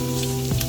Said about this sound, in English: I chucked in the onion and the carrot first with a little bit of garlic